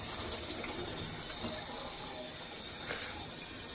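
Water runs steadily as box braids are washed with shampoo, a continuous hiss of tap or shower flow close by with faint rubbing and no talk.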